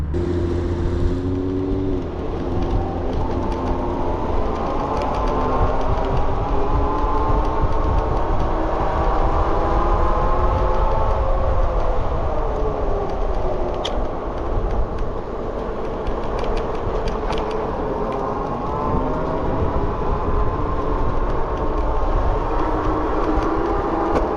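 A 72V BBSHD mid-drive electric bike rides at moderate throttle, its motor whining steadily with harmonic tones rising and falling alongside continuous chain and road rumble, close and loud throughout with no talk.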